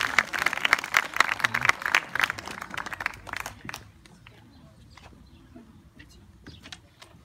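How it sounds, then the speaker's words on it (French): An audience applauds the ecumenical jury as it is called forward, with sharp, dense clapping for about three and a half seconds before it thins to a few scattered claps that trail off. "On peut les applaudir."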